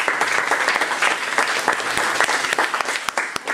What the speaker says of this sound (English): Let's give all of our presenters for today a big round of applause.